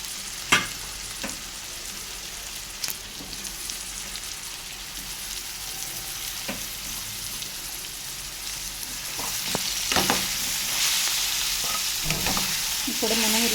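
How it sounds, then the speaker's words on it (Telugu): Bitter gourd curry frying in a pan while being stirred, a steady sizzle with scattered scraping knocks of the spoon against the pan, growing a little louder toward the end. "ఇప్పుడు మనం ఇలా మొత్తం అంతా కలిపే వరకు కలుపుకుందాం."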